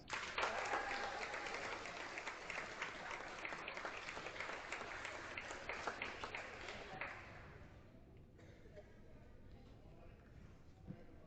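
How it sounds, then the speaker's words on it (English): A crowd in a school gym gives a round of applause for the 8th grade 2021 St. Patrick class before a varsity boys basketball game, steady clapping for about seven seconds that thins and fades into murmuring room noise. "Now a big round of applause for your 8th grade 2021 St."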